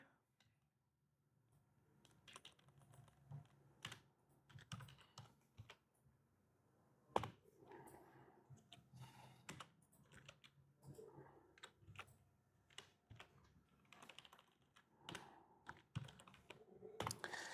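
Typing on a computer keyboard while entering commands in a terminal, with a scatter of quiet key clicks and a few sharper keystrokes such as Enter, heard close up and under faint background noise.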